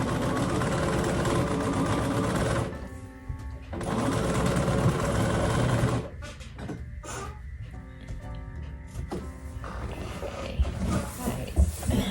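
Sewing machine stitching a tree of life quilt, running in long steady bursts that stop briefly and restart, the last few seconds broken into short stuttering runs.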